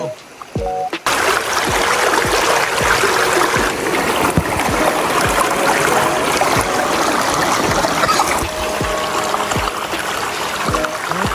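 Water rushing and gurgling in a stream at Sapang Bato, a loud continuous close-up flow with splashy trickles and occasional knocks, starting abruptly after a brief quieter moment.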